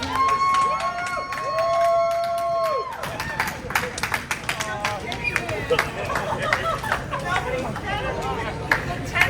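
A crowd claps and cheers as someone lands at an airport arrival, bursts of applause rising over a busy background of chatter, with close voices talking throughout.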